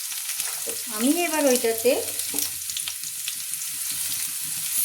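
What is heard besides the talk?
potatoes frying in a pan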